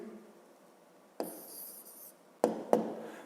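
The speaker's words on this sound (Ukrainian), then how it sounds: "Пишемо тоді відповідь" Someone writes by hand on paper while working a fifth-grade maths exercise, producing close, soft scratching strokes and a few sharp taps of the pen. The strokes are quiet and brief, with no talking.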